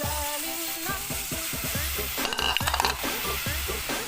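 Boiled mung beans hit a hot pan and sizzle loudly, a dense close frying crackle with a brief stirring clatter in the middle.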